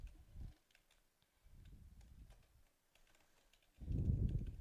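Computer keyboard typing while code is written, quiet bursts of keystrokes in three clusters with brief pauses between, the last burst louder and denser.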